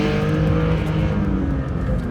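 Porsche 911 S/T sports car engine running loud and close, a dense steady roar with strong harmonic drone held throughout, no voices.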